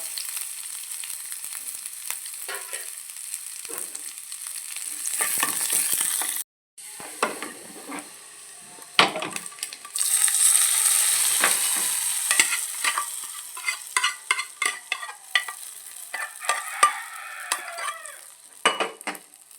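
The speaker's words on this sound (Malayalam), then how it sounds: "കരിവേപ്പില ഇട്ട് കൊടുത്ത് ചെറിയ ഉള്ളി അത്തരമാവും കൂടി കൊടുക്കുക" Curry leaves and small onions sizzle in hot oil for an egg curry while a utensil scrapes and clinks against the pan in repeated stirring strokes, close and clear.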